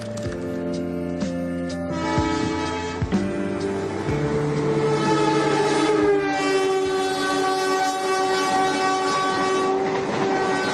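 A train rumbles and clatters past in Semarang, Indonesia, while its horn blares long, sustained chord-like blasts, loud and close, with no voices.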